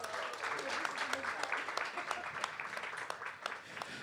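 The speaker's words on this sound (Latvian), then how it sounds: "Vētraini aplausi!" Audience applause at a Latvian panel discussion, steady quiet clapping throughout with some murmured voices underneath.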